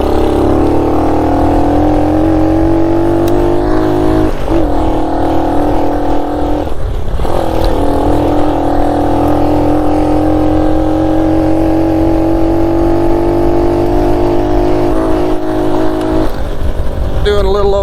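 A 1969 Honda Trail CT90 motorcycle runs at about 30–35 mph, its small engine droning steadily with a rising pitch and brief dips at gear shifts, loud and close throughout over wind noise.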